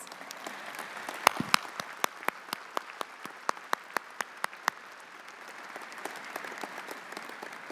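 Convocation audience at an engineering and architectural science faculty ceremony applauds families, friends and mentors, a broad steady wash of many hands clapping with a few sharper, louder claps standing out near the front, no voices.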